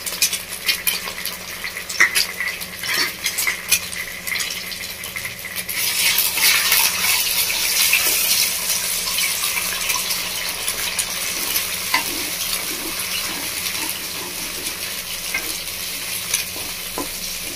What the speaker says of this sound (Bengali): ডিমটাকে একদম ঝুরঝুরে করে ভেজে নেবো।